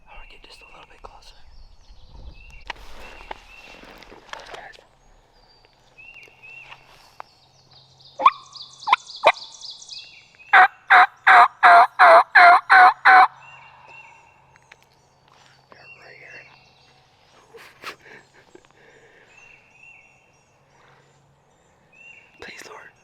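Wild turkey gobbles nearby in a spring Missouri woods, a short burst of rapid rolling notes in the middle, surrounded by whispered speech and faint rustling and bird calls.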